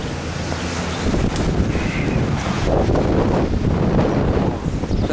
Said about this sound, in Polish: Wiatr strasznie wieje, ale to jest osłonięte w miarę.